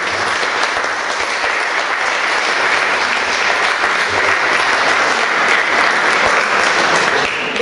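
People gathered at a discussion meeting give a full, even round of applause that stays steady and loud for the whole stretch, with no talking over it.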